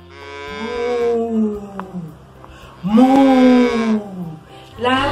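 Two long, loud, close moos like a cow's are separated by a short pause. They may be a person imitating the cow, and a third call begins at the end.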